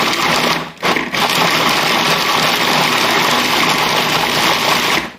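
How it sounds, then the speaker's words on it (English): A blender grinding pistachios gives a loud, dense, continuous roar that briefly dips near the start and then runs steadily to the end, with no talk over it. "let's blend up these pistachios and see what this stuff tastes like"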